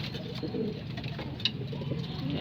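Pigeons coo softly and repeatedly in low, murmuring tones against a faint background hum, with one brief sharper chirp midway.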